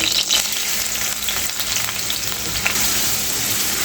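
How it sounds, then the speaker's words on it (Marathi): Dense, steady sizzling of onion frying in hot oil, loud and close, with faint stirring scrapes and no talking. "फोडणीला आपण कांदा टाकूया"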